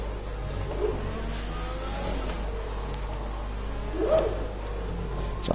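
A Force India Formula 1 car runs at full throttle in F1 2020, its engine a steady buzzing drone with pitch sweeps through gear changes, moderately loud.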